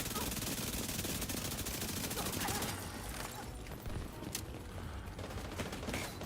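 Rapid SMG bursts in the video game The Division 2 during a PvE mission, dense sustained gunfire for over two seconds, then scattered quieter shots and game effects, at moderate level.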